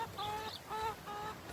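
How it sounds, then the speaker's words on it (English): Chickens kept alongside turkeys and a goose cluck in three short, evenly spaced bursts of nasal calls, close and clear over a quiet farmyard background. "I've got some chickens as well."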